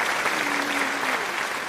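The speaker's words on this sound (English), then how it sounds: "Add the applause sound." A burst of studio-style applause, many hands clapping in a dense, even wash at steady loudness from start to end, with no voices over it.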